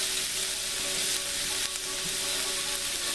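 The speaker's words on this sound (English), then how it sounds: "So we've got the curry with the onion and the mustard seed at this time, and we'll let that cook." Onion and mustard seed frying in a pan for bhindi masala, a continuous bright hissing sizzle, close and even, with faint stirring.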